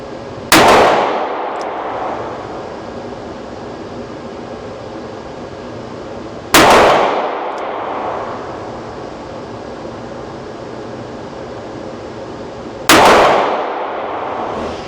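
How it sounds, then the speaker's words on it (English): Three loud, sharp shots from a Smith & Wesson 327 TRR8 .357 Magnum revolver with a rubberized grip, striking a barn door, spaced about six seconds apart, each leaving a long ringing decay. "We're going to take 4 shots on the barn door up top with the TRR8 Smith & Wesson"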